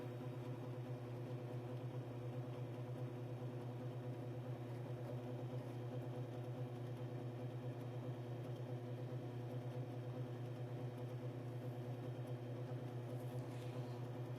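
A Timken bearing test machine runs on Mobile 1 synthetic oil with a constant mechanical hum and drone, steady and unchanging for the whole stretch, with no one speaking.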